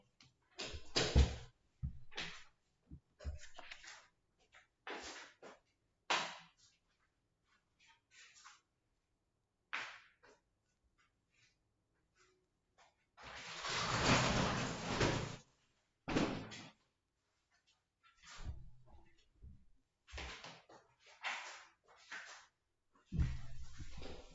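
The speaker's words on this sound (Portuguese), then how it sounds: "Acho que vou ter que fechar a porta aqui, galera." A door closes with a solid thump midway through a quiet room, with scattered knocks and handling noises before and after, and no talking.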